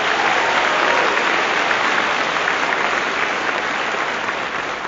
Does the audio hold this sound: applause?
yes